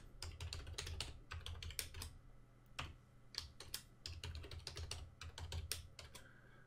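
Rapid, close keystrokes on a computer keyboard while a password is entered, an irregular run of crisp clicks with brief pauses, quiet and alone.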